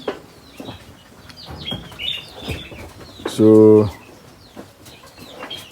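Poultry at a farm in Ghana flutter and call, with brief wing flaps and clucks scattered under a man's speech, then a loud, sustained harmonic squawk near the middle before quieter bird sounds resume.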